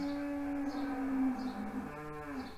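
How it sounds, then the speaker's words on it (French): Cows moo loudly and close by, a long, low, drawn-out call that wavers in pitch and holds steady over a soft rural background, with no talking. "Là, je suppose que vous entendez les vaches parce que le son est très fort."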